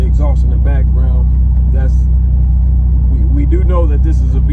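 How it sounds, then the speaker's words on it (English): A V6-powered G-body car with a leaking muffler gives a low, continuous exhaust drone close by, and someone speaks over it for most of the stretch. "I know you can hear the exhaust in the background."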